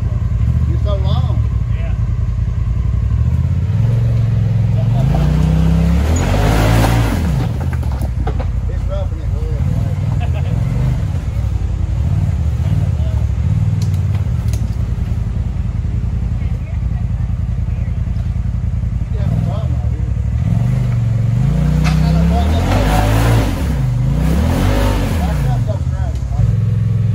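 Side-by-side off-road vehicle, a KRX or RZR, grinding up a rocky trail at Windrock, its engine droning steadily and rising in bursts of throttle throughout, with people talking over it.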